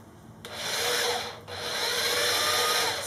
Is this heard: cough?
no